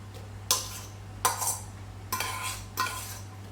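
A spoon stirs mashed carrot into an egg and sugar mixture for carrot cake, giving four distinct scraping, clinking strokes against a bowl, close and clear over a steady low hum.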